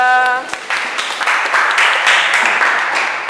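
Classroom applause for a student presentation group in an Indonesian teacher-training session, a dense wash of clapping from a seated group that swells and holds steady for a few seconds, beginning just as a voice finishes speaking.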